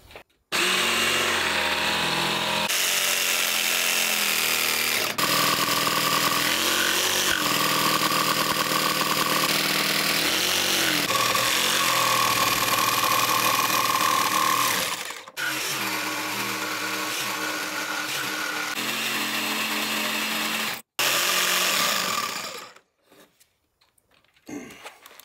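A power saw cuts through thick wood, a loud, steady motor whine with a grinding edge that holds for about fifteen seconds, breaks off, starts again, then stops abruptly and trails into quiet.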